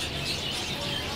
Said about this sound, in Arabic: جيت هنا اتفرج على هاي الطيور